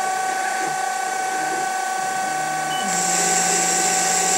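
Denford Orac CNC lathe turning a V8 cylinder part at a slowed manual feed, a steady mechanical whine with tonal gear hum and ratcheting texture, the pitch shifting upward near the end, close and continuous.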